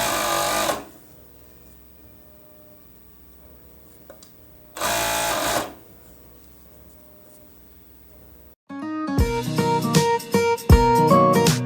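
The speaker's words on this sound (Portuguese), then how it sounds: "E agora é só fazer a costura." An overlock sewing machine stitches the sleeve of a women's T-shirt in two short, loud whirring bursts separated by quiet pauses, followed later by a longer stretch of louder, different sound.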